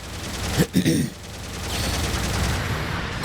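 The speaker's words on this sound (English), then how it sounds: "You get those cluster shots here for the more unique weapon for this." Cluster shots fire from Loto's weapon in Gundam Battle Operation 2, a quick pair of sharp bursting blasts near the start, then a steady rumbling game background.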